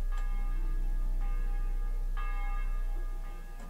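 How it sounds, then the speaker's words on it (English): Several bell strikes ring out in a Kingdom Come Deliverance game scene, with tonal peals at roughly one-second intervals, each decaying over a steady low ambient bed, with no talking. "this is the first time I've heard bells"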